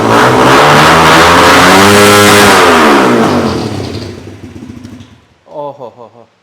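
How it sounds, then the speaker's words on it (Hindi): A 250cc sports motorcycle with a snail exhaust revs hard and close, a loud rising roar that holds, then fades as the engine settles, with a brief voice at the end. "let's just rev it up और देखते हैं कितना एक ज़बरदस्त साउंड निकालेगा"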